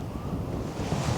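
Steady wind buffeting the microphone across an exposed, remote golf course, a constant low rumbling roar with no breaks and no voices.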